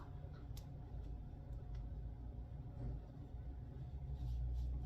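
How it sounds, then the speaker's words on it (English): Car driving past outside, heard from indoors as a low, muffled rumble that swells gradually and grows strongest toward the end, faint overall with a few small clicks and taps nearby. "Somebody's driving outside."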